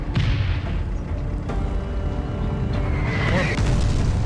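A mortar shell fired in the video game Foxhole, heavy low booming thumps close by over a dense rumbling battlefield bed, with a voice talking over it.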